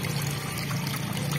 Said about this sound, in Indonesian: pancuran air itu akan menambah oksigen